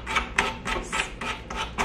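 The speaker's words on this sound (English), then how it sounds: "So I'm going in between the ridges and like sanding out all the extra" Hand sanding of wood filler between the ridges of a patio chair, heard as about seven even, close rasping strokes in a steady back-and-forth rhythm with no talking.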